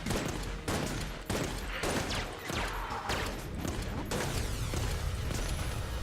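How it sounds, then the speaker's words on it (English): Gunfire from the AC-15 in Enter the Gungeon, a steady run of loud shots spaced fairly slowly, layered over dense game sound and impacts with no pause. "I think the AC-15 just shoots way too slow"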